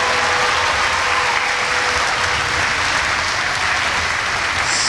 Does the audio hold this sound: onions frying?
no